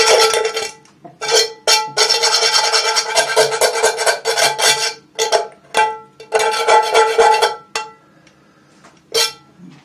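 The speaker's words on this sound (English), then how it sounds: "That's enough to go back through with the pot scrubber now." Pot scrubber rubbing over grime beside a dish soap bar, loud close rasping strokes in long bursts separated by brief pauses, ending with a single short scrub.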